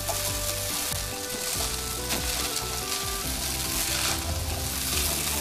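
Eggs fry loudly with chicken and rice vermicelli in a hot pan, a dense, continuous sizzle broken by repeated stirring scrapes and clatters, close up with no voices.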